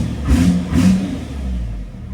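A tuned second-generation Cummins diesel truck engine, fitted with a Quadzilla Adrenaline tuner, revs up twice in quick swells before settling into a steady low rumble, close and loud with no talking.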